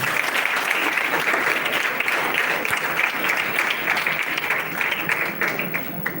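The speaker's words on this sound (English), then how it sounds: "We must give a bigger applause." A large audience gives a loud, continuous round of applause for a student researcher, thick clapping that stays strong across the whole stretch and eases off only slightly near the end.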